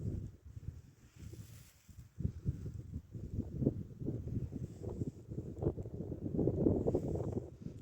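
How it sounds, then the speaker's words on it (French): Low, steady wind buffets outdoors on the flat plateau of the Causse Méjean, France, with gusty rumbling that swells and fades, fairly quiet and with no voices. "Le vent s'est un peu levé là"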